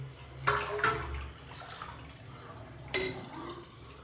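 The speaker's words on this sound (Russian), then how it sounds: "Смываем лишний пришейв." Water splashing and dripping as leftover pre-shave lather is rinsed off a face during a wet shave with a T-shaped safety razor, two brief splashy bursts with soft trickling between, close by.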